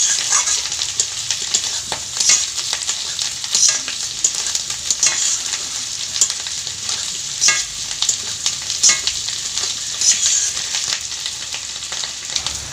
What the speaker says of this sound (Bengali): আলুটা এই মটরের সঙ্গে আপনারা একটু সিদ্ধ করে নিয়ে এইভাবে একটু ভেজে নেবেন